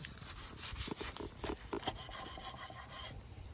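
Knife sawing through a garlic bread wagyu steak sandwich: a series of close, crunchy rasping strokes through toasted crust, repeating in quick rhythm and then easing off, with no talking.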